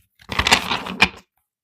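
Tarot cards being shuffled during a live Libra elemental reading, a single riffling burst of crisp papery rustles lasting about a second, close and moderately loud with no talk.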